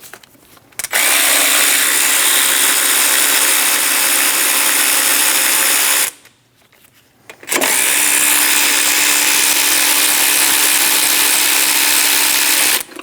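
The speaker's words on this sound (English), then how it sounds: "Using a 12mm socket, remove the 2 bolts for the tensioner bracket" A power tool with a 12mm socket spins out tensioner bracket bolts on a 2005-2009 Subaru Legacy during a timing belt job, in two loud, close, sustained whirring runs separated by a brief pause.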